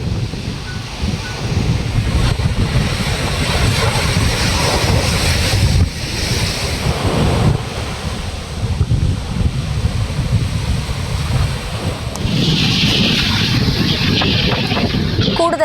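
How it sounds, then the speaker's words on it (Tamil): Rough, storm-driven sea during Cyclone Ditwah, with waves surging and crashing continuously along the coast. A steady broadband roar comes and goes in strong swells, and heavy wind buffets the microphone throughout. "கடல் சீற்றமாக காணப்படும் நிலையில் கொந்தளிப்புடன் அலைகள் எழும்பி"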